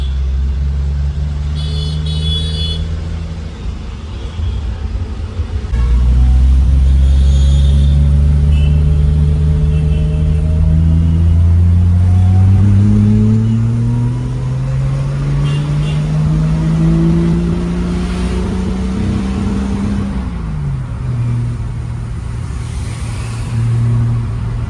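A 1966 Ford Mustang engine rumbles steadily while driving on a city road, its low drone rising and falling in pitch as it revs through gears, loud and continuous throughout.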